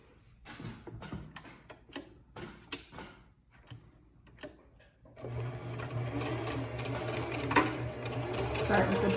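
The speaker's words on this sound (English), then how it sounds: "For now, I'm just going to stitch along this lower curve pretty close to the edge." A sewing machine top stitching along a curved fabric edge, first a few slow hand-turned clicks and then a steady close mechanical whir that runs to the end, with someone talking at the start.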